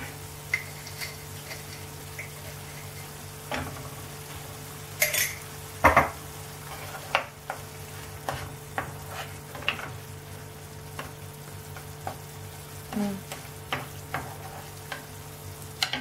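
Stirring in a hot pan while cooking murungakkai, with a faint continuous sizzle under a string of sharp clinks and scrapes of a utensil against the metal, spaced irregularly and close.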